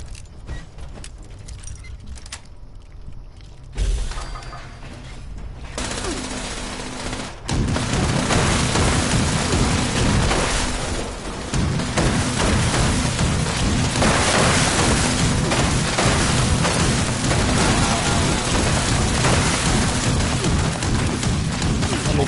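Gunfire in the Fallout 76 video game: rapid, dense bursts of shots that start sparse, then turn into a loud, sustained barrage with booming impacts. There is no talking over it.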